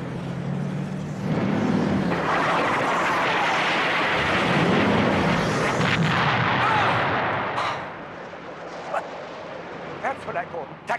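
A missile launch and explosion near an armoured limousine: a loud roaring blast swells and rumbles for several seconds, then fades into scattered sharp cracks and bangs.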